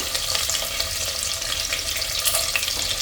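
Small onions sauté in a pan for kola urundai kuzhambu, a steady dense sizzle running throughout at even loudness, close up with no talking.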